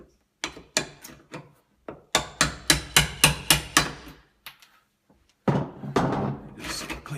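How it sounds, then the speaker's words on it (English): A chisel trims wood on an old door to fit an antique lock, heard as a series of sharp close taps in quick bursts, with pauses between them, then a longer scraping, rustling stretch. "I'm going to have to trim out just a little bit right in here. So I'm going to take my chisel."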